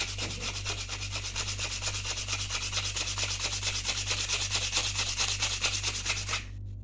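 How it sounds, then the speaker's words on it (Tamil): A nail tip is rubbed hard against a rough surface to sharpen it into an arrow point: rapid, steady back-and-forth rasping strokes, close and loud, running evenly until they stop just before the end. "இப்போ இந்த உச்சியை இந்த மாதிரி வச்சு நல்லா தேய்ச்சிக்கிறேன்."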